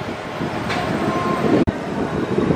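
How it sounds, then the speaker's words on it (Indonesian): The KA Brawijaya passenger train running on the line, heard as a steady, loud rumble with rushing wind and rail noise, recorded from close by or onboard, with a brief faint tonal whine and one abrupt cut. "ternyata kereta apinya berjalan langsung nih KA Brawijaya"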